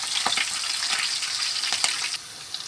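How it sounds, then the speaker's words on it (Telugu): Onion and garlic paste goes into moderately hot oil for mutton curry, giving a close, crackling sizzle with bubbly spatters that eases off near the end, no voices. "ఆయిల్ బాగా వీటెక్కితే నూనె పైన పడుతుంది, అందుకే కొద్దిగా తక్కువ వీటెక్కినప్పుడే వేసి."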